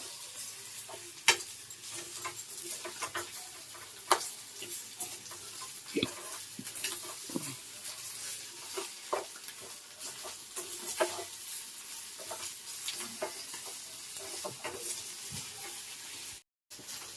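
Chapati egg stir-fry cooking on high heat, constant sizzle with repeated scraping and clinking of a spoon stirring in the pan, close and fairly loud, with no talking.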